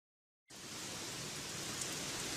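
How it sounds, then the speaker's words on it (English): Heavy rain starts abruptly after a brief silence, then pours steadily as a dense, loud hiss with no letup. "It's raining cats and dogs again."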